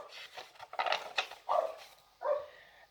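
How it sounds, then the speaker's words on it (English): A dog barks several times in short, sharp bursts, fairly close, with brief pauses between the barks and no one talking. "can you hear Harry's barking again"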